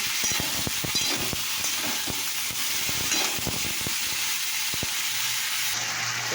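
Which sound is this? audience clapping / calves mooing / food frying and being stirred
food frying and being stirred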